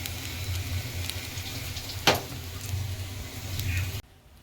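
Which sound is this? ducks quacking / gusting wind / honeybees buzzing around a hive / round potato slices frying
round potato slices frying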